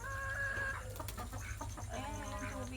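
Backyard chickens clucking at close range in a morning farmyard, with ducks kept nearby; a steady run of short, harmonic clucks and calls over a low continuous hum, no speech.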